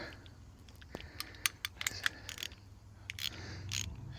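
An air impact gun loosens a bolt on a Ford Escort RS, giving several short ratcheting bursts and clicks in the middle, close by over a low workshop hum.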